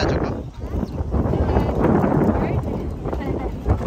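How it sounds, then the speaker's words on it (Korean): Strong outdoor wind buffets a phone microphone with steady, loud low rumbling and gusty swells that rise and fall throughout. "바람이 엄청 부네."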